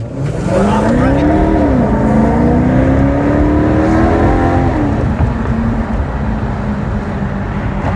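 A Maserati GranTurismo MC Sport pulls away and accelerates, its engine note climbing steadily through a smooth rising rev from inside the car, loud and close with a brief upshift dip.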